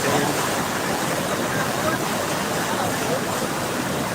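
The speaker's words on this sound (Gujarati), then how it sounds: "જો આ પુલ ઉપરથી પાણી એટલું જાય છે" Loud, steady rush of heavy floodwater flowing over a bridge during heavy rain in Varal, a dense broadband roar without pauses.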